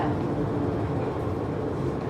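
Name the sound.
train arriving at station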